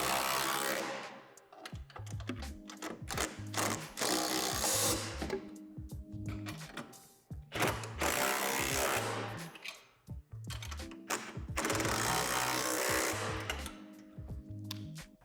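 A power driver tightens the hardware on the backboard brackets of a Lifetime 54-inch portable power lift basketball system. It whirs in three long, loud bursts, each broken by short stops and stutters, with no talking.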